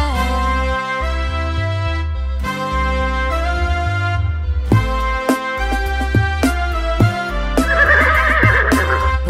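A horse whinnies briefly near the end, rising over a bouncy Hindi children's nursery rhyme with steady instrumental music and beat throughout.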